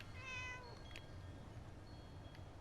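A cat meows once in the game Fallout 76, a short rising-falling call early on, quiet and alone over low ambient background, followed by faint small tones.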